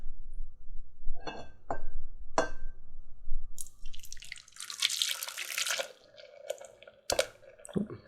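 Liquid soap glugs and drips as it's poured into another container, with a few sharp taps of glass or plastic and a wet splashing stream midway.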